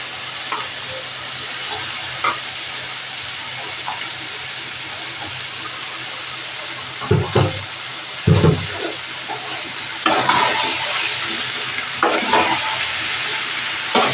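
Jackfruit and chicken sautéing in a spice paste in a pan, heard as a loud continuous sizzle and hiss with heavier scraping stirring strokes breaking in toward the end, close and without talk.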